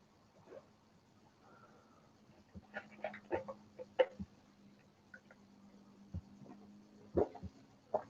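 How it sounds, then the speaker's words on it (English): Puppy whimpering and crying indoors, a series of faint, irregular short whines and squeaks scattered over a quiet background. "My puppy's freaking out."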